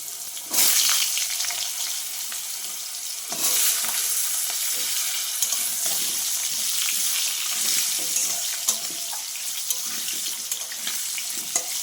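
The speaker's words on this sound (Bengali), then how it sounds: "আলুটা একটু ভালো করে ভেজে নেব লাল লাল করে" Steady loud sizzling of potatoes frying in a pan, with occasional stirring scrapes throughout; no voices.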